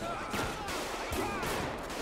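Dense gunfire bursts in GTA 5 during a police shootout, with rapid overlapping shots and a steady rattling barrage throughout, mixed with faint game background noise.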